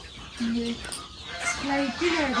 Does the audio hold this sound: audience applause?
no